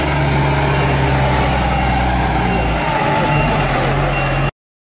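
An 18-wheeler truck reversing, a loud steady engine drone with a low hum and a persistent backup-alarm tone that cuts off abruptly near the end.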